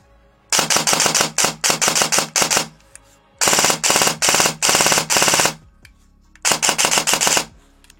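Airsoft replica, a basic Kestrel fitted with a brushless motor and short stroke, firing rapid full-auto bursts: three clusters of fast, sharp clicks at a high cycle rate, close and loud, separated by brief pauses, with no talk.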